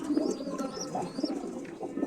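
Breeding-loft pigeons coo in low, repeated murmurs close by, the soft throaty calls overlapping continuously with occasional lighter chirps above them.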